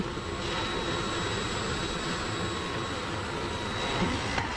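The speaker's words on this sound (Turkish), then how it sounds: "Şu baskı makinesi." A seedling tray press machine in a tomato, pepper and eggplant nursery production plant gives a steady, loud mechanical roar and hum that runs without a break, with a faint high whine above it and no talking.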